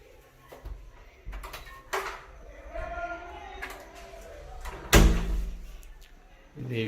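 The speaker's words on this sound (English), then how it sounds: "I get home, open the door, and all the lights go on." Front door of a smart home swinging open, with clunks and knocks of the latch and door spread over several seconds, fairly close, with some background voices and household noise.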